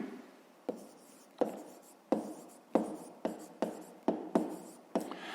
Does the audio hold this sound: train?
no